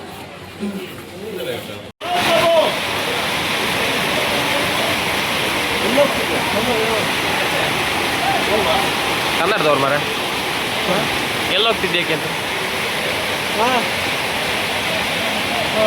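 Heavy rain pours in a steady, dense hiss that begins abruptly a couple of seconds in and continues loud and unbroken, with people talking beneath it.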